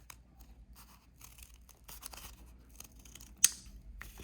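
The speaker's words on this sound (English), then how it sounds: "we're cutting through a lot of paper here, so be patient with yourself and be patient with your scissors." Scissors snip slowly through a thick stack of folded paper to make kirigami stars, with quiet crinkling and soft scraping between cuts and one sharp snip near the end.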